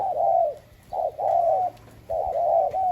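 An old decoy dove with a small, high-pitched voice coos in repeated phrases, several clear bursts separated by short pauses, near and alone with faint background noise.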